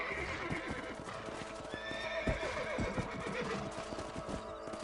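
Horse in Red Dead Redemption galloping in a steady rapid rhythm of hoofbeats, with a brief whinny partway through, over a constant outdoor ambience and no talking.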